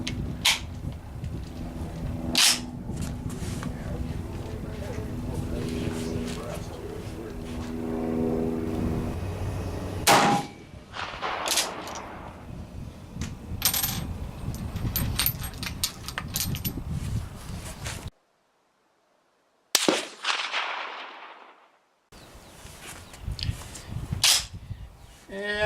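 GP11 rounds fired from a K31 rifle at a shooting range: several sharp, isolated reports spaced seconds apart, with handling clatter and quiet stretches between them, plus a brief silent gap.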